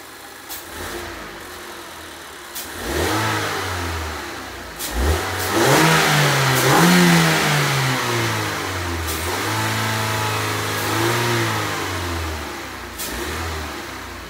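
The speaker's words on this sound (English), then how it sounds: "you could just hear just what a K&N drop-in sounds like with no intake resonator delete" A Mazda 3 Skyactiv engine, fitted with a K&N drop-in air filter and its intake resonator left in place, idles and then revs up several times in a row. The rises and falls are close and clear, with no voices.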